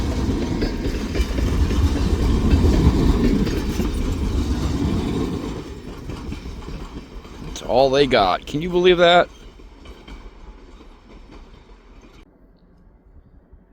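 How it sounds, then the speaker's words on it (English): A freight train rolls past on rails with a low rumble and clatter that is loud at first, then fades. Someone speaks briefly partway through. "I am really having problems keeping up with this train"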